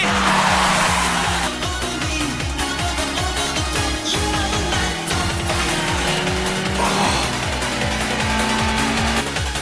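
A Toyota AE86 overtakes in a race, its engine roaring loudly with rising revs while tires squeal and skid, the noise dense and continuous, close up, with a brief shift in pitch partway through.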